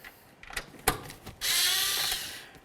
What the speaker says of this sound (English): Let's use a 6mm to remove our 4 mounting bolts for the speaker.